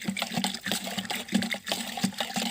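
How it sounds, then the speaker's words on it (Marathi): A stick stirs Bordeaux mixture granules into a container of water for spraying sweet lime trees, giving steady sloshing and swirling with rhythmic knocks against the side, close and continuous. "टाकल्यानंतर एका काडीने ला चांगल्या प्रकारे हलवायचं आहे"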